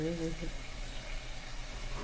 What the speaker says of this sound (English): the vegetables sizzling